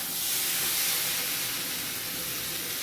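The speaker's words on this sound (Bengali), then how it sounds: "জল দিয়ে দিচ্ছি।" Water poured into spiced masala for a spiny gourd (kakrol) vegetarian curry gives a loud, steady steaming hiss and sizzle from the hot pan that fades slightly over a few seconds.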